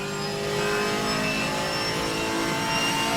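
A race car with a 6.2 litre Chevrolet LT1 V8, sampled from the Camaro SS, roars in a racing video game, a steady, continuous high-revving engine note holding at a loud, constant level with no talk.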